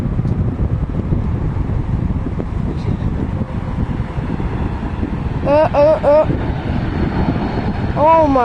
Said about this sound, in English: So here's a Boeing 737-800 max.